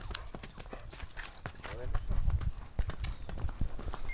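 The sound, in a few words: startled mare, hooves clip-clopping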